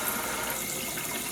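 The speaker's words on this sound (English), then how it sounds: "I'm going to run the water so that my sink doesn't get all jacked" A bathroom sink tap runs steadily, a dense continuous hiss of flowing water, close and fairly loud and unbroken, with no voices.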